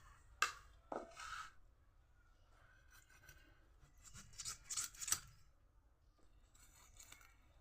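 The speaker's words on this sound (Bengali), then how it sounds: "এখন মাছগুলোকে ছোট করে কেটে আপনাদেরকে রান্না করে দেখাবো।" A large fish is cut into small pieces for curry, giving a few scattered close-up snips and scrapes of the blade with quiet gaps between them.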